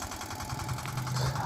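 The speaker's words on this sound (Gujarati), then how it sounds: "શક્તિશાળી આ ડીઝલ એન્જિન છે." A Mangal nano tractor's diesel engine runs steadily nearby, a continuous low rumbling drone with faint rhythmic mechanical clatter and no speech.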